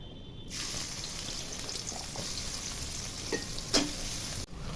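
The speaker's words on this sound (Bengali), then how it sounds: "তেল গরম হয়ে গেছে, এখন পেঁয়াজগুলো ভেজে নিব।" Sliced onions hit hot oil, cooked for a broiler chicken curry with potatoes, and settle into a continuous close sizzle with a few sharper pops and crackles.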